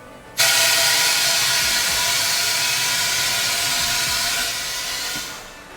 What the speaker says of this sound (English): As the ram returns to the top of the machine, the air from the ram is exhausted inside the chamber